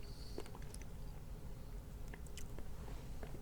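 Someone chews a crunchy shredded wheat cereal with berry filling close up, with soft biting crunches scattered irregularly over a steady background hiss, and no talking.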